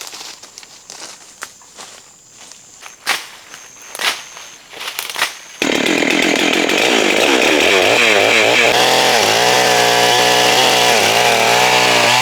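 Chainsaw felling a tree in the Amazon rainforest, snapping on at full roar after several sharp knocks and footsteps, then running loud and steady with pitch wavering as it bites into the wood.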